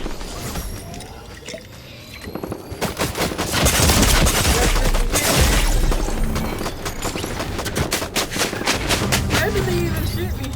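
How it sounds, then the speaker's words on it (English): Dense automatic gunfire and repeated shots in the Fortnite battle royale video game, loud bursts building and continuing across the clip with a player's voice talking over the shooting. "Where did they even shoot me from?"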